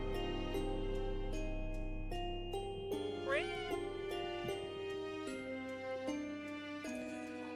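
A cat lets out a short rising meow midway through, heard against a sustained bed of tinkling musical tones.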